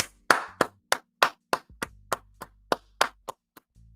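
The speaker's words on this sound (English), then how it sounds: "give her a nice round of applause for everybody" A round of clapping made of about a dozen sharp, distinct claps, close and loud, spaced at a steady slow pace with brief gaps between them and a faint low hum underneath.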